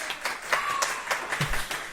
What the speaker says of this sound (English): So a big round of applause to Lee.